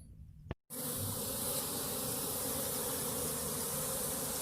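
Honeybee swarm shaken from a tree, a sudden dense roar of buzzing after a short thump, then a sustained loud, steady hum close by with no talk.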